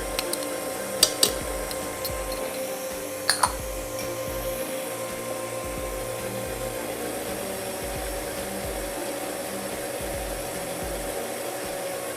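A blender whirs steadily as it whips cream with powdered sugar and fresh vanilla bean, a continuous loud motor drone with a few brief clicks near the start.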